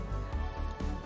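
A thin, high synthetic whistle played through an underwater transducer during wild dolphin research holds steadily, dipping slightly in pitch and rising again, over a murky, bubbling underwater background.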